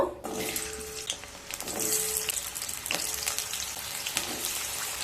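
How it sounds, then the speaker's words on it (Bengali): Potatoes frying in hot mustard oil in a wok make a continuous crackling sizzle with sharp spatters, close and fairly loud, without any talking. "তেলটা গরম হয়ে গেছে, এরপর আলুগুলোকে ভেজে নেব।"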